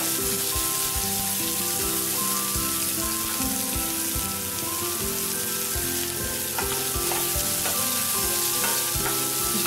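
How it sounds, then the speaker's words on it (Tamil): Onions for a vegetable somas filling sauté in a pan with a loud, dense, continuous sizzle and crackle, plus occasional stirring scrapes, close and uninterrupted by speech. "வெங்காயம் ரொம்ப வதங்கணும் இல்லை,"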